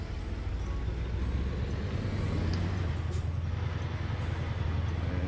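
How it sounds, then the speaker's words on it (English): Trucks passing on the road in a trucking game featuring a dumper quad-train in Mexico, a steady low engine rumble and roadway drone, continuous and fairly loud, with no talk. "Passing trucks sound ridiculous."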